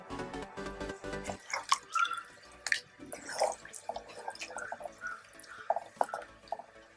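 Water is poured into a Chettinad egg drop curry gravy in the kitchen, giving faint, close trickling and dripping splashes with irregular liquid plops over a few seconds.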